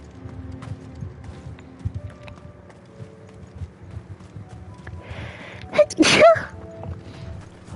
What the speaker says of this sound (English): I wasn't trying to sneeze cute,